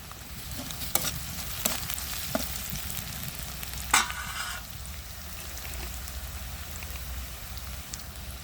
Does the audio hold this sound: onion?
yes